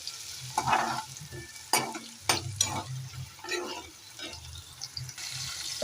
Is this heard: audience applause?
no